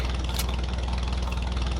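A small tractor engine idles in a video game, a steady low rumble with an even throbbing pulse that runs throughout with no talking.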